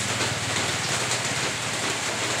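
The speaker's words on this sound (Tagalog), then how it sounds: "kay kusog kayong ulan oh" Heavy rain pours steadily beside a highway, a dense, loud, continuous hiss of drops on surfaces with a low rumbling undertone, unbroken for the whole stretch and with no voices.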